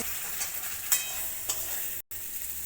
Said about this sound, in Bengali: মশলাতে পেঁপেগুলো আমার ভালোভাবে কষানো হয়ে গেছে।